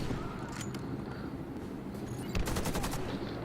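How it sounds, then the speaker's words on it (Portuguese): Game gunfire cracks over a steady background hum, with a few scattered shots early on and then a quick cluster of rapid bursts, like three shots fired to make sure of a kill. "Eu dou 3 tiros agora, só pra garantir que morreu."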